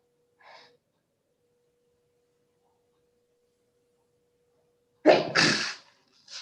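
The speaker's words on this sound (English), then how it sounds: "excuse me, I must sneeze." A single sharp sneeze bursts out loudly near the end of a quiet stretch, preceded by a faint breath.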